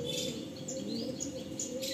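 Pigeons, Madrasi Andhra breed, including a Mangalgiri male, call with soft chirps and coos in a steady chorus against a constant background hum.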